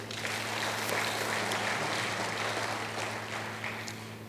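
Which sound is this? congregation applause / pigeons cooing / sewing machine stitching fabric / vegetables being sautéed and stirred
congregation applause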